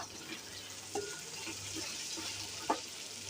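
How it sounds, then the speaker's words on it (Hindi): Whole spices frying with ginger and garlic in a pan: a soft, steady sizzle close by, with a few faint clinks of a utensil scattered through it. "इनको हल्का सा हम करेंगे साथ इसके फ्राई"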